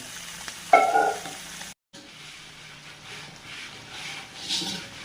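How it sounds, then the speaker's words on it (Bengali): Falui fish sizzles as it fries in hot oil, a steady crackling hiss with a louder burst of spatter near the start, a brief dropout, then continued gentle sizzling. "আমি ফলই মাছ ভেজে নিচ্ছি, উচ্ছে দিয়ে রান্না করব।"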